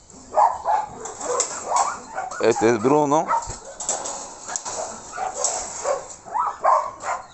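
A released female dog whimpers and barks in short yelping bursts amid talk, with a brief whining cry standing out near the middle.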